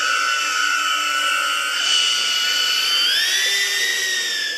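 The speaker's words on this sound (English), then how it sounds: "This drone is very loud and intimidating when you hear it." A police drone flies past loudly, its high, steady whine of spinning rotors rising in pitch partway through, continuous and close with no talk over it.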